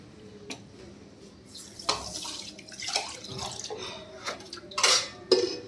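Rice is put into a vessel to soak in water in a home kitchen during a morning routine, with scattered clinks of metal pots and utensils, splashes and trickling water, close by and moderately loud.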